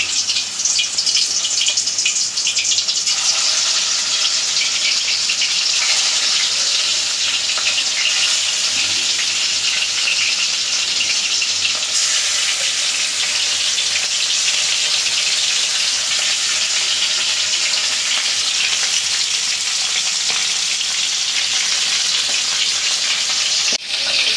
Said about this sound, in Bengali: তেল গরম হয়ে গেছে, দিয়ে দিব মাছগুলো।